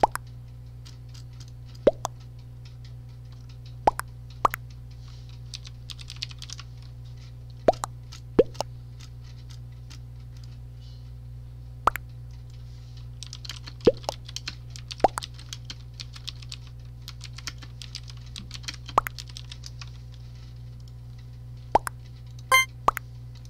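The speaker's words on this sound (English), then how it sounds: "Sorry, I put my keyboard up real close to my" Computer keyboard typing very close to the microphone, scattered sharp key clicks in uneven bursts over a low constant electrical hum, with no speech.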